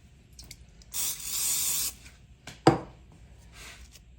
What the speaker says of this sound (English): Let me spray my spoon.